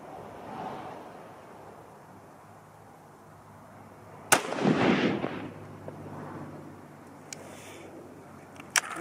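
A single sharp rifle report from a 25-06 Remington Browning BBR bolt-action rifle cracks outdoors, followed by a rolling echo that fades over a second or two, with faint smaller clicks later.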